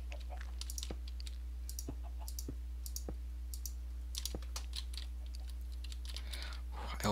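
Quick clicking keystrokes on a computer keyboard during a Minecraft Skywars game, rattling steadily in close, uneven bursts over a constant low hum, with faint game sounds in the background.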